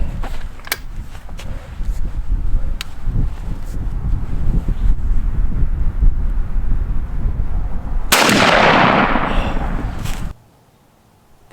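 A single loud, close shotgun blast from a Winchester Double X turkey load fired at a target 30 yards away, a sharp broadband burst that rings out for about two seconds and then cuts to quiet, following steady wind and low rumble.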